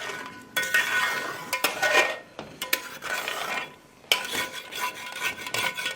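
A spoon scrapes and clinks around a pan as chicken changezi with cream and kasuri methi is stirred, irregular bursts of metal scraping with brief pauses, close and without talk.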